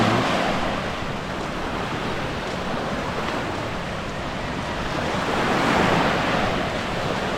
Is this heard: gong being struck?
no